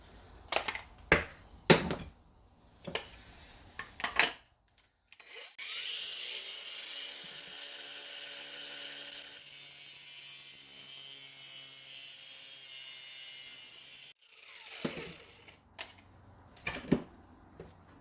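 The damaged end of a hose is cut off for an AN fitting on a 1956 oval window Volkswagen Beetle. Scattered taps and handling clatter frame about nine seconds of steady, close, hissing cutting noise.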